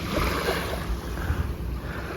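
Waves wash in at Sanur beach in Bali with a steady surf roar, mixed with gusting wind buffeting the microphone and no talking.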